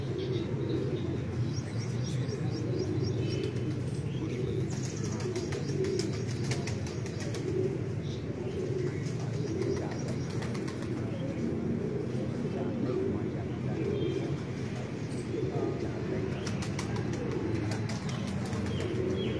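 Racing pigeons landing at the end of a flight, with soft flapping wings and faint coos and chirps over a constant outdoor background roar that runs throughout.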